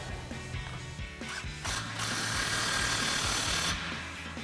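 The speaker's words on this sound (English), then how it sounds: "take our 15mm socket to tighten it down" A ratchet wrench with a 15mm socket tightens an exhaust clamp on a Ford F-150 Borla ATAK dual exhaust, making rapid close mechanical clicking in short bursts followed by a longer continuous run of ratcheting.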